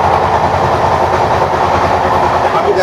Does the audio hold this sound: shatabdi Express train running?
yes